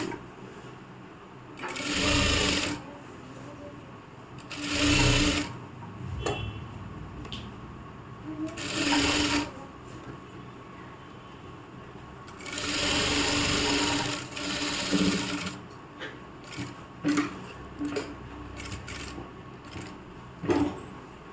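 Sewing machine stitching the neckline of a churidar, running in several loud bursts of a few seconds each with quiet pauses between, ending in shorter stop-start runs.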